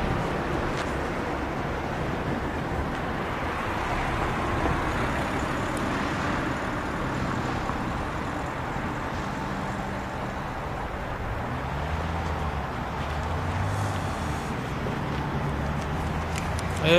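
Road traffic near Drogenbos, Belgium, at night, with cars and heavier vehicles rumbling past in a steady, continuous wash of engine and tire noise, fairly close and without pauses.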